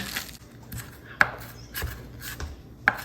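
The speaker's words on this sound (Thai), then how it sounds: "มาซอยหอมกันเลยค่ะ ซอยบางๆนะคะ" A knife slicing shallots thinly on a cutting board: soft, irregular cuts with two sharper taps against the board, close by.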